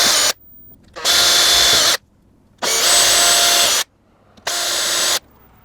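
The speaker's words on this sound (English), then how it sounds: "take it off, and now you can drill" A power drill with a small bit boring holes to mount a doorbell, three loud, steady whirring bursts of about a second each separated by short pauses, close by with no talk.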